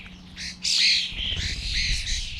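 Common starlings calling in an English garden, a mix of close chirps, whistles and squawky chatter running continuously with some low background rumble.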